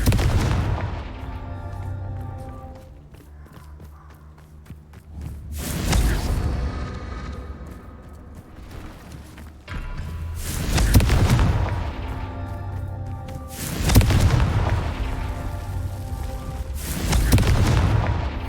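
Confringo spell explosions in the video game Hogwarts Legacy, four heavy booming blasts spaced a few seconds apart over a low rumbling game soundscape, with no talking.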